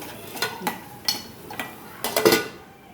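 Prawns being stir-fried in a pan, with a utensil scraping and clinking against the metal in irregular bursts over a low background, a few sharper knocks near the end.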